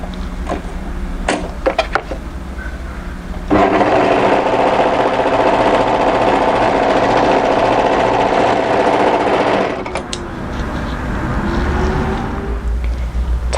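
An overlocker stitches the short edge of a ribbing waistband, placed right sides together for a winter sweater, running as a loud steady whirring hum for about six seconds between a few clicks and handling noises before and after.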